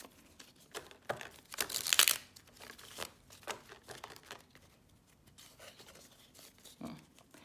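A worn deck of playing cards is shuffled at close range, with soft papery riffles and crinkly flutters and one louder riffling burst amid quiet handling rustles.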